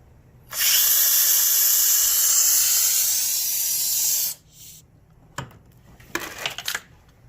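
Hissing air and brake fluid drawn through an opened bleed valve by a vacuum bleeder on the rear brake of a 2004 Suzuki GSX-R 1000, loud and steady for about four seconds and then cut off, followed by a few faint clicks and handling noises.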